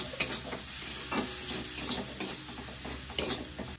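Turmeric, chili powder, garam masala and chopped green chilies frying in a pan for stuffed pointed gourd, stirred with a soft, even sizzle and occasional light spatula scrapes, fairly quiet and without any voices.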